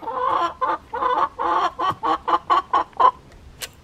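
Backyard chickens cluck in a run of about a dozen short, rhythmic clucks close by, getting quicker and more clipped toward the end, with no talking.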